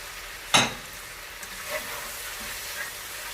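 Chicken cubes for chicken jalfrezi hit a hot pan with vegetables, opening with one sharp clack and then a continuous sizzle and a few soft stirring scrapes, close and fairly loud.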